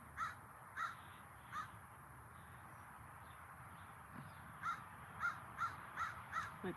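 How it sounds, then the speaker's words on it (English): A crow caws repeatedly outdoors in a quiet setting, with three spaced calls at first, a pause, then a quicker run of five or six caws, moderately distant against faint background ambience. "Just listen to the beautiful bird."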